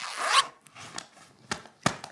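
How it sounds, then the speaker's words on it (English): A zipper on a kids' adventure bag is pulled closed in one long, loud zip, then a few quieter tugs and short rasps follow nearby. "Let's zip our adventure bag together."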